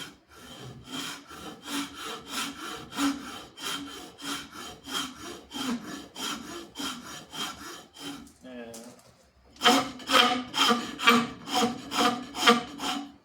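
A hand saw rasps through wood in steady back-and-forth strokes, with a short pause before the rhythmic sawing resumes, louder and sharper.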